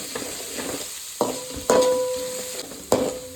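Curry leaves and garlic fry in a hot pan with an oily sizzle, interrupted by a few sharp clatters as the mix is stirred, close and steady with no talking.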